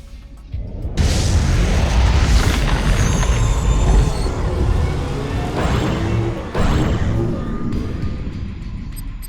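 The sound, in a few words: ion cannon strike explosion in Command & Conquer 3 video game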